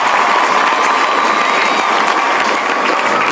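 Audience applause at a senior director recognition event, a dense, steady wash of clapping from a large crowd sustained evenly throughout with no break.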